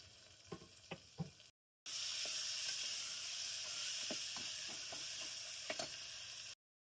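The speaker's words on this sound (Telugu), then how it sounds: "అల్లం వెల్లుల్లి పేస్ట్ కొని వేపేసుకుందాం ఇందులోకి టమాటాలు కూడా వేసేసుకుందాం" Ginger garlic paste and tomatoes fry in a hot pan for a beans curry, a steady sizzle after a brief gap, with a few soft knocks of a spoon at the start and scattered pops throughout.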